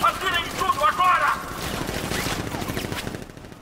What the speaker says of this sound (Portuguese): Abra o fogo! Atirem tudo agora!